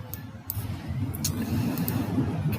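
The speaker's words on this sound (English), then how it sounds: "sounds like they're picking up the trash outside again" A low, steady garbage truck rumble outside, idling and working at a distance while collecting trash, with faint clanks and no talking.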